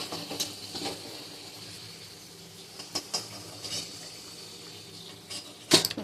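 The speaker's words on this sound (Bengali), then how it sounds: "আলুগুলো তুলে নিচ্ছে" A metal spatula scrapes and clinks against a pan as fried potatoes are lifted out, with sparse knocks over a faint background hiss and a sharp clatter near the end, no voices.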